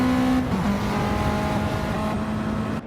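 A race car engine in a racing video game droning steadily at high revs, with a brief pitch drop as it shifts gear early, loud and continuous throughout.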